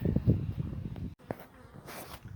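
Bees from a long-established hive inside a chimney in rural Victoria make a close, irregular buzzing hum, with brief swells and a short dropout midway, over faint background noise.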